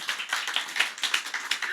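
A church congregation applauding steadily, dense overlapping claps with no talk, holding a fairly even level for a couple of seconds.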